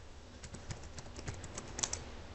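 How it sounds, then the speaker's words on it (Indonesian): Typing on a computer keyboard, a quick run of soft, close key taps in an irregular rhythm, faint and without talk. "ketik aja di Google ya"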